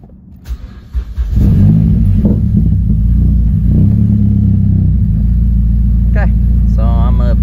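A Mazdaspeed car engine cranks and starts about one second in, then settles into a loud, steady idle that runs to the end, with a person speaking faintly underneath.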